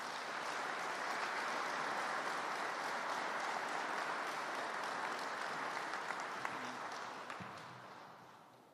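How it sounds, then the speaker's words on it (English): An audience at a Veterans Day commemoration claps steadily in a broad, even wash of applause that holds for several seconds, then thins and fades toward the end. "Let's give another round of applause."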